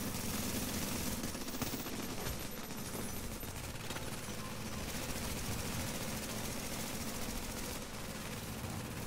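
Sustained rapid automatic gunfire from a turret in the video game The Division, loud and continuous with dense overlapping bursts and engine-like rumble throughout.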